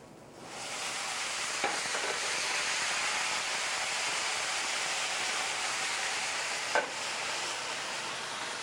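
Deglazing a hot pot after sautéing shallot: a loud, sustained hiss of sizzling steam rises as liquid hits the pan, with a couple of faint utensil taps and no talking.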